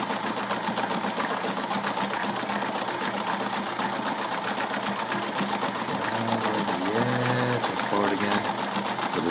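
A sewing machine runs steadily, stitching a fabric mitt in reverse, its fast mechanical hum and needle clatter continuous and close, with a brief shift in pitch near the end as the stitching slows and resumes.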